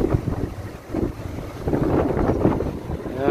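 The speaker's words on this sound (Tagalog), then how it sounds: "malakas ang hangin" Strong outdoor wind buffets the microphone in gusty, rumbling bursts that rise and fall irregularly, with no voices over the noise.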